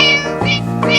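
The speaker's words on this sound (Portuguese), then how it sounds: "Quando ele escuta um gatinho." A cat meows three times in quick succession, each call loud, close and drawn out, with no other sound around it.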